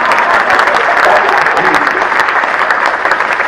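Dense, steady applause from an audience at a Hindi comic poetry recital, loud and continuous with no pauses and no voices above it.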